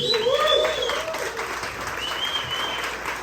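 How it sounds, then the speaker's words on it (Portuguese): An audience at a 60th birthday party gives a round of applause for Everaldo Lins, dense clapping that starts loudest and settles into a steady patter, with a few shouts over it. "Eu queria uma salva de palmas para ele"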